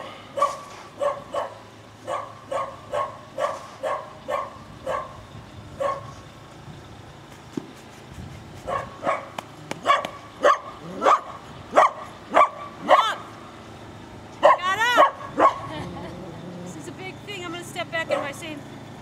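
A dog barks in repeated sharp bursts, close by, with short runs of yips and a whimpering stretch, out in a snowy yard during a December snowstorm in Leesburg while a person talks at intervals.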